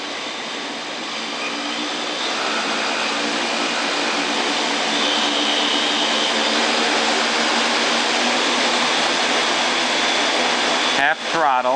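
Quadcopter motors on an F4 flight controller with an ESC fault spin at half throttle, giving a loud, steady, broadband whirring roar that holds evenly close by, ending in a brief clatter.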